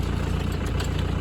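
An engine-powered auger runs steadily at idle-like speed while digging holes for sonotube forms, a close, continuous low mechanical drone with no talking.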